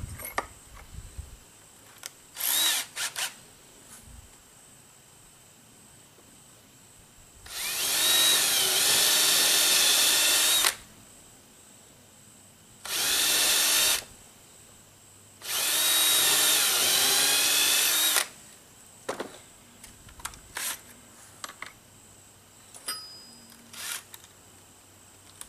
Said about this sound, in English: Now I'm going to pre-drill a couple of holes.